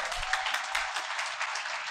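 A preacher's audience keeps clapping in a steady, even wash of applause from a crowd, with no voices standing out.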